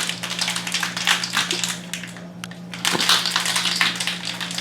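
A cocktail shaker is shaken hard while a cherry cordial is made, giving a dense, continuous rattle of ice against the shaker with a brief pause partway through, loud and close, with no talking.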